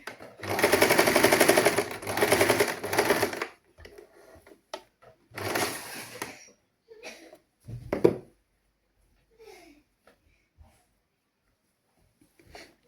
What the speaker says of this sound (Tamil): இப்போ பாருங்க நான் இதை தைச்சிட்டேன்